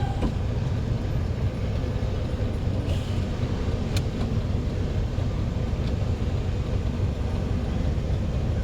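Dense city road traffic in Bacolod City, Philippines, a constant low rumble of engines and tyres with a couple of faint sharp clicks over the steady hum.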